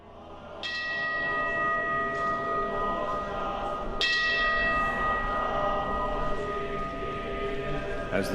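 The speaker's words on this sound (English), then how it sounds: "the neighborhoods resound to the chanting of sutras and the ringing of temple bells." Large temple bells ring out in Kyoto at sunset, two deep resonant strikes a few seconds apart, each leaving a long sustained hum that fills the air while a faint murmur of voices or chanting lingers underneath.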